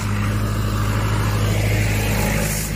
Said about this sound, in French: Attention, tracteur.